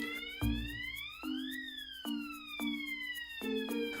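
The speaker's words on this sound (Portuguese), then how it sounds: "Para fazer o disparador acionar o alarme, basta apertar no meio do acrílico no ponto indicado e em instantes a sirene irá acionar." A fire alarm siren sounds after a manual call point is pressed, rising and falling in repeated electronic wails with pulsing tones, steady and fairly quiet.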